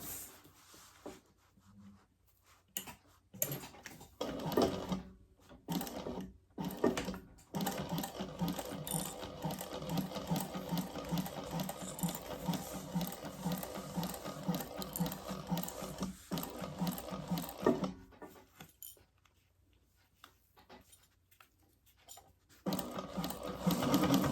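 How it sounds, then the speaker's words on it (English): A sewing machine top-stitches around the curves of a laptop bag, starting in short stop-and-go bursts, then running steadily for about ten seconds before stopping and briefly resuming. "We're going to top stitch around the curves."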